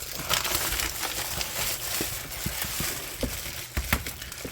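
Plastic wrap being pulled off a Diablo 4 limited collector's box, a close, continuous crinkling and crackling with irregular sharper snaps throughout, no voices.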